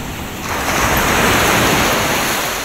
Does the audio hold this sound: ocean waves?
yes